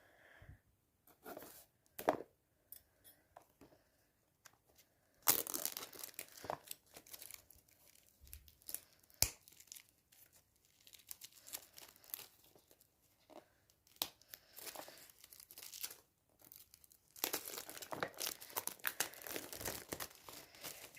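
Scissors cut open the packaging of a GAN 356 i Carry speed cube, giving repeated crinkling, crunching and tearing of plastic and card. The bursts come close and irregular, separated by quiet pauses, with no speech.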